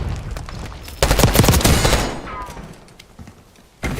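Video game gunfire in a multiplayer shooter's kill-order mode: a dense, loud burst of rapid shots dominates for about a second, then trails off into quieter scattered fire, with radio-style game chatter faintly underneath.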